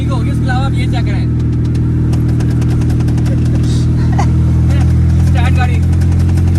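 A car idles steadily, loud and close, with a constant engine hum throughout, while several people talk over it.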